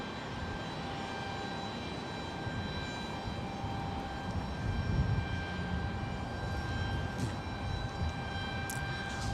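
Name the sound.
jet airliner taking off from runway 30 right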